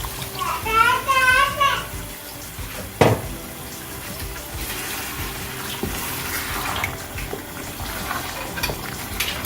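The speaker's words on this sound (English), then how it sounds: "I'm going to add a cup of water so the chicken and the potato can cook together." A cup of hot water poured over chicken and potato in a pan for a samosa filling, a steady close trickle and splash running under a voice at the start, with one sharp knock.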